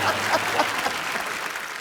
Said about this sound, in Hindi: एक बार ऋषि सर और नीतू मैम के लिए जोरदार तालियां हो जाएं